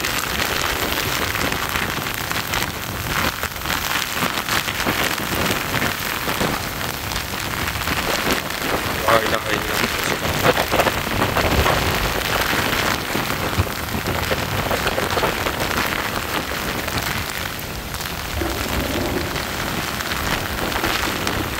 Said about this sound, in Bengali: প্রবল বৃষ্টি হচ্ছে।